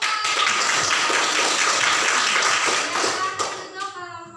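A classroom group gets a burst of clapping, a dense patter of hands that thins out near the end into a few scattered claps and light taps.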